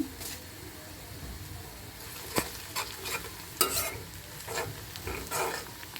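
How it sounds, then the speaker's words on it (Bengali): Fenugreek seeds sizzling in hot oil while cooking a taro (kochur mukhi) dish, a close, steady frying hiss broken by several sharp clacks and scrapes of a spoon against the pan. "মেথি দিয়ে দিচ্ছি"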